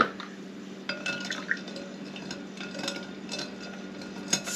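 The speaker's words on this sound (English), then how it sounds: "we're going to give it a little stir" Six cinnamon sticks stirred into whiskey in a glass jar give soft liquid swishing and a few light glassy clinks, close and quiet with no talking.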